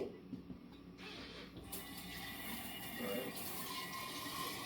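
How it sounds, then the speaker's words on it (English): Hot tap water runs steadily into a mason jar for making kefir from grains, a continuous close hiss of pouring water that swells slightly as the jar fills, with no talk. "Now this is when I put in the hot water from the tap."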